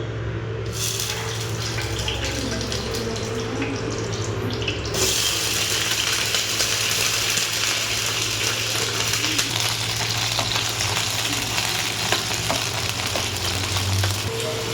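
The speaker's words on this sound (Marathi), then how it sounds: "बैंगनला फ्राय करून घेते मी" Halved brinjal (eggplant) fries slowly on a low gas flame in a pan, giving a continuous hissing sizzle that grows brighter and louder partway through, over a steady low hum.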